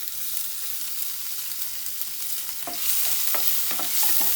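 Ginger, garlic and green chili sizzle in a pan over a low flame, a steady frying hiss that swells louder near the end as stirring adds a few distinct scraping clicks.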